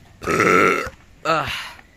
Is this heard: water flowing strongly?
no